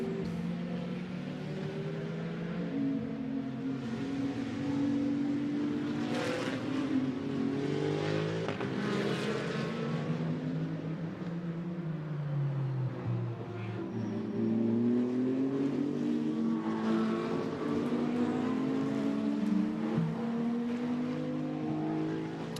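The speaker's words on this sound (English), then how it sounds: "Pret pushes down towards turn 10 here." A Mercedes-AMG GT2 race car laps the Barcelona circuit during qualifying, its engine droning continuously with rising and falling revs through gear changes, steady and moderately distant for the whole stretch.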